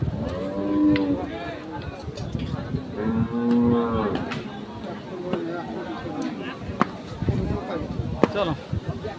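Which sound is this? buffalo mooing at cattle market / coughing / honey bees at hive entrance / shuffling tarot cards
buffalo mooing at cattle market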